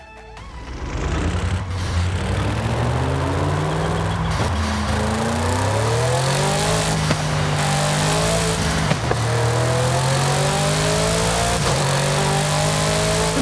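McLaren supercar in Forza Horizon 5 accelerating from low revs with turbo lag, its engine note climbing loudly through repeated gear changes, each shift dropping the pitch before it rises again, steady and close with no talk.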